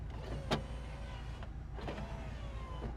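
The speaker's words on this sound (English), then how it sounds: "Driver window." Power driver window motor of a 1978 Chevrolet Corvette Pace Car Edition whirring as the glass travels, with a click at the start and soft mechanical thumps, close up and with no voices.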